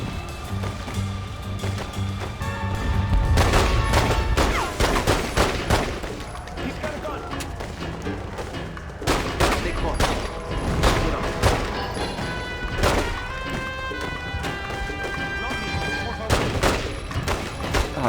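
Gunfire in The Godfather 2 video game, many sharp pistol and automatic shots in irregular bursts over a steady game soundtrack, loud and close throughout, with a voice talking at times.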